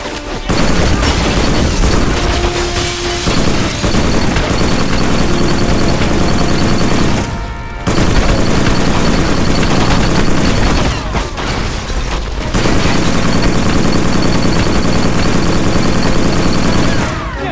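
Loud, sustained automatic gunfire and booms from a weapon in the video game Black, running almost nonstop with two brief pauses.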